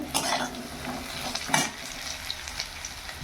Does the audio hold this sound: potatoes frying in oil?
yes